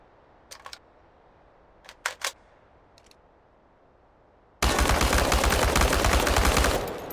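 Gunfire at tin robots in the Chernobylite video game: a few short sharp bursts of shots spaced apart, then a loud continuous spray of automatic fire that runs to the end.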